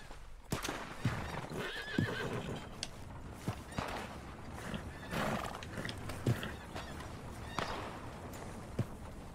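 A Thoroughbred horse in the Red Dead video game whinnies and neighs repeatedly while its hooves clop and stamp irregularly, close and loud, with no talking.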